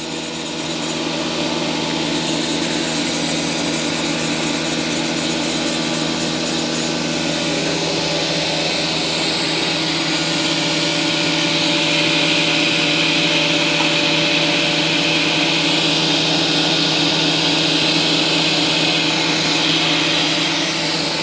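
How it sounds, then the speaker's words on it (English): Nesting CNC router lowering its tool toward a sacrificial MDF sheet, a steady loud machine drone and whine with a constant hum running throughout, no talk. "we press the MPG button to move the tool to touch the sacrifice MDF sheet."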